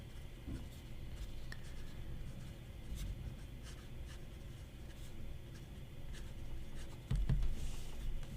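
A Majohn P140 fountain pen with a medium nib scratches across paper in quiet, continuous strokes, with soft rhythmic scraping, close up, and a brief louder bump near the end.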